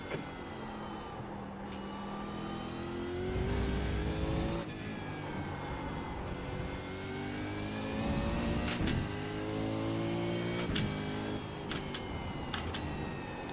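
A V8 Supercar racing at Winton in iRacing, its engine repeatedly revving up through the gears with sharp upshifts and downshift blips, loud and continuous, with no voices.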